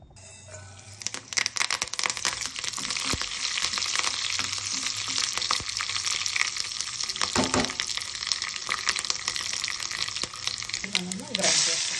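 Mustard seeds, cumin, curry leaves and garlic crackle and sizzle in hot oil for mango chutney, a steady close frying hiss with small pops and stirring clinks, a voice talking faintly beneath.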